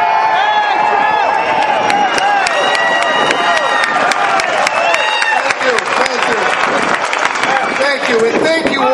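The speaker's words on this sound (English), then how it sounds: "Let's have a big round of applause" A political rally audience claps and cheers loudly for a Representative, dense applause with whoops and shouts rolling on steadily throughout.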